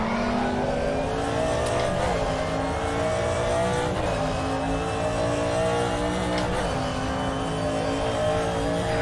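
A 1992 Audi DTM race car in RaceRoom roars around the Norisring, its engine loud and continuous, rising and falling through gear changes with brief tire squeal and no talk over it.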